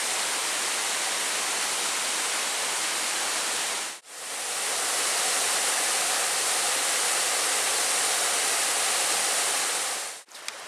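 Trap Falls in the Porcupine Mountains roars with a steady, broadband rush of falling water, loud and constant at close range, briefly dipping twice as if momentarily muffled.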